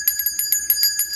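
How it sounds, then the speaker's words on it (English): Small bell rung to clear stagnant energy, a quick series of bright metallic dings with sustained shimmering tones, close and clear, with no voice. "I just heard ring the bell to clear the stagnant energy"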